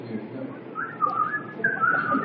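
A person whistles a warbling, electronic-sounding tune imitating the R2-D2 droid at a crowded game show in Toulouse, close and clear over faint crowd murmur.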